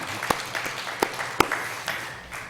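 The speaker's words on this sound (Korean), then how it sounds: "이 응답 주신 하나님께 우리 감사의 박수 한번 드리십시다" A church congregation claps in thanks during a service, heard as a few sharp separate claps over a soft, spread-out patter of applause that fades toward the end.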